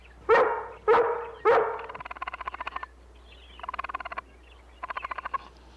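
Dog barking in a rural outdoor scene, several loud close barks in a quick run followed by rapid yapping bursts, with no talk over it.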